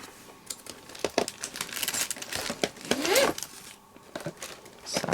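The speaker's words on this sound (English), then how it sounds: "Sound like a zipper and there's no zipper around." Small plastic bag crinkling and rustling during a paper-crafting session, with quick scratchy bursts and one rising zipper-like rasp, close and fairly quiet, broken by brief pauses.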